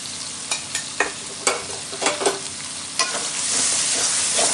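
Masala and brown curd fry in oil in a pan for aloo dum, a loud, continuous sizzle marked by repeated scraping stirs through the first few seconds, then a rising, steadier hiss.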